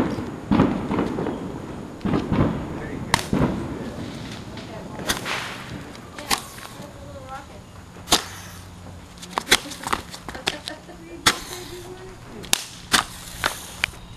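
Fourth of July fireworks pop and crack in a string of sharp bangs, some close and loud, others fainter, with people talking intermittently in the background.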